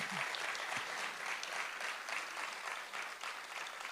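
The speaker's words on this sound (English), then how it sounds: "Let's give Jorian a huge round of applause, and congratulations to all of our nominees." Applause fills a hall at the Tasmania Australian of the Year awards ceremony, a sustained, fairly quiet wash of clapping from the audience with a brief voice heard at the start.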